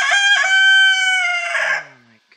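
A rooster lets out one long, loud crow from close by in a homestead chicken coop. The call holds steady, then tails off into quiet.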